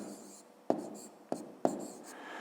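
Handwritten numbers going down on paper, three sharp pen taps each followed by brief scratchy strokes over a quiet room tone.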